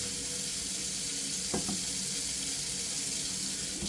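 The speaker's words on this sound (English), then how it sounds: "We're going to get a little bit more water." A kitchen tap runs water into a container for proofing yeast, a steady close hiss of flowing water with a brief splash or clatter partway through.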